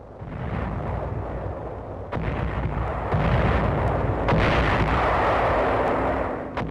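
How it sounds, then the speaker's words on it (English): Naval guns of the 7th Fleet firing a 1944 barrage on the southern tip of Bataan, heard as a dense, continuous rumble of booming reports with sharp bursts, loud and unbroken, with no voices. "units of the 7th Fleet open up a 90-minute barrage on the southern tip of Bataan"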